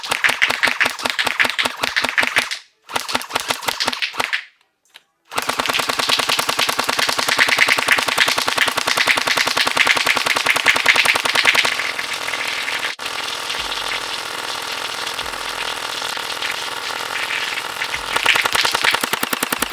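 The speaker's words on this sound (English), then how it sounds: "let's see how accurate this blaster is" A Gel Blaster Surge 2 XL firing gel balls on medium power rattles off rapid, steady bursts of full-auto shots, loud and close, broken by two brief pauses early on.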